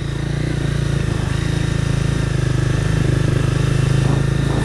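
A 2010 Honda CBR 250 motorcycle is ridden down a street, its engine holding a steady, close, fairly loud drone with a faint rhythmic pulse throughout, no voices.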